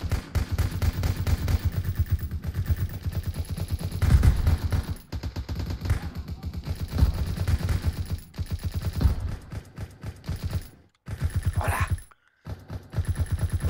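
Rapid bursts of automatic gunfire and single shots rattle through a World Titans War battle in a video game, loud and nearly continuous, with brief gaps near the end before the firing resumes.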